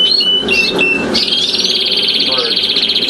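Brown red intensive canaries, including a brown carrier bird, chirp and trill with bright, high warbling calls that grow into a sustained busy song, while a voice speaks faintly underneath.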